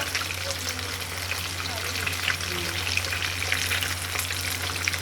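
Fish chops fry in a pan with a continuous, even crackling sizzle that stays steady and fairly close throughout, with no clear talk.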